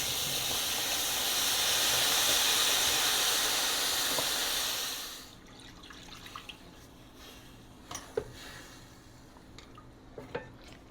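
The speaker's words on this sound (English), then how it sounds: "Watch out for some steam. Here it comes." A loud, steady hiss of steam rises as two cups of broth hit a hot pan of chicken and orzo for several seconds, then cuts off into quiet sizzling with a few small clicks and pops.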